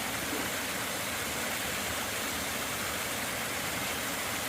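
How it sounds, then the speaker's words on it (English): A small waterfall along the Appalachian Trail gives a steady, even rush of falling water, close and continuous, with no voices. "First time we've had a little waterfall in a while."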